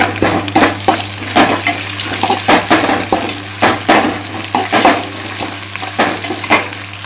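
Curry leaves and onions frying loudly in a pan, with dense crackling sizzle and frequent rhythmic stirring scrapes up close over a constant low hum.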